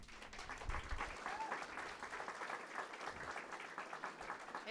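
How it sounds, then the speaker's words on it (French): A church congregation applauds together in a steady, dense burst of clapping that fills the room and holds throughout, with a faint voice or two briefly under it. "On peut l'applaudir."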